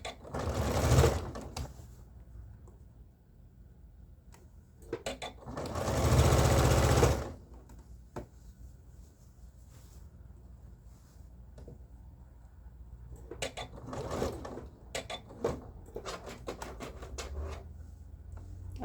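A sewing machine stitches a dress bodice to its skirt at the waist seam, running in short close bursts of rapid mechanical whirring separated by pauses and faint handling noises.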